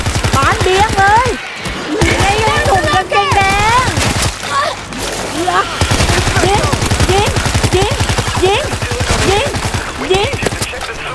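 Rapid gunfire from reloading and shooting at zombies in World War Z, a dense crackling barrage running nearly nonstop under loud, excited talk throughout.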